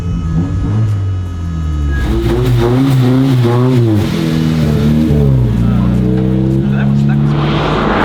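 A Japanese supercar engine revving and accelerating loudly from inside the car, its pitch rising and falling through gear changes, with a person speaking briefly over the roar.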